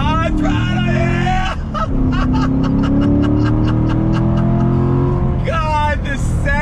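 A 2019 Corvette Grand Sport, a front-engine C7 with a seven-speed manual, accelerates hard on throttle, its engine note climbing steadily and loud and close, with rapid gear-change pulses and a brief dip before pulling again.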